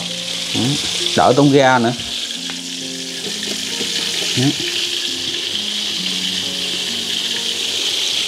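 Food fries in a pan set low over a charcoal fire, giving a loud, steady sizzle throughout. Someone speaks briefly near the start.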